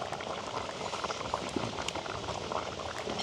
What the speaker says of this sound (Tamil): நல்லா கொதிச்சு கொண்டு வருகுது.